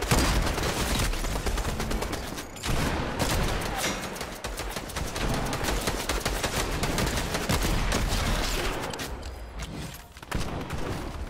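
Rapid, dense gunfire in the Fortnite Chapter 4 Season 2 video game, with loud bursts that continue almost nonstop, broken by two brief pauses.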